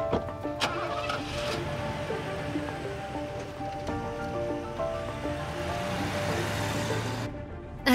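A car engine cranks and starts, then keeps running at a steady, moderate level, with broadband rushing noise throughout and no speech.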